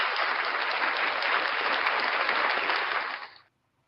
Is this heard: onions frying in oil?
no